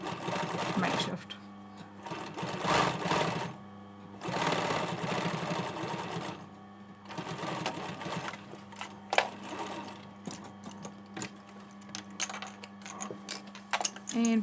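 A sewing machine with twin needles topstitches a hoodie sleeve in rapid whirring bursts separated by short pauses, close and clear, ending in quicker stop-start runs.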